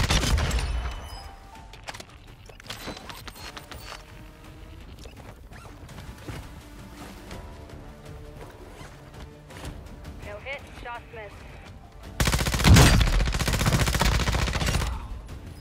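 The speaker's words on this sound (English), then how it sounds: "Mortar strike inbound." Mortar strike explosions in the Call of Duty video game, heard as rapid gunfire bursts and then a loud, dense explosive blast near the end, with voices talking over the battle.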